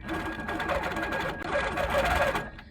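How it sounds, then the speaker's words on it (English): An HQ Capri quilting machine stitches white thread through black fabric, running in a continuous close mechanical whir with a faint voice speaking underneath. "it really helps you to navigate your fabric as you're stitching"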